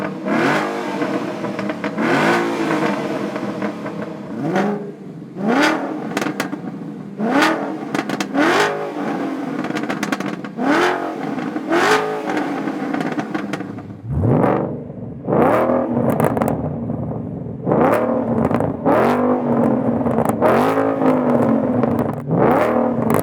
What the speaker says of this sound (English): We did grab some sound clips so you can hear what these long tubes will sound like with both a factory catback as well as an aftermarket catback